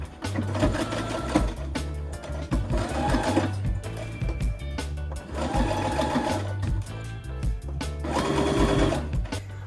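Sewing machine stitching back pieces of a cotton summer milkmaid dress, running in several steady bursts of rapid mechanical whirring with short pauses between seams, close and clear.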